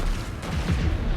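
Sniper rifle shot in the Fortnite video game, a booming report with rumbling low-end spread across a brief stretch of dense game noise, no talk over it.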